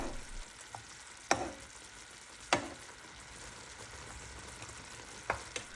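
Pears sizzle in butter caramel in a pan for a pear tarte tatin, with a soft steady sizzle broken by a few sharp clinks and scrapes.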